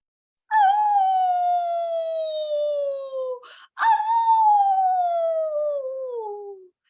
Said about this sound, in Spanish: los perros aullando a lo lejos